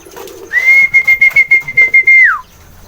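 A person whistles to call homing pigeons with one loud, close, warbling whistle. It rises quickly, holds a steady pitch for about two seconds, then slides down at the end.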